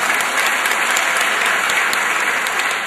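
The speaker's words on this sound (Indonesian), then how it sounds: "Jangan tepuk tangan dulu" A large crowd at a political dialogue event in Surabaya breaks into loud, sustained applause, a thick, even roar of clapping filling the whole stretch without any speech.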